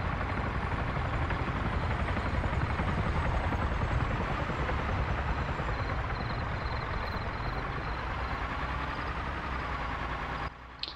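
Steady, loud helicopter rotor drone from a circling helicopter in Arma 3 that holds constant for the whole stretch, with no voices over it.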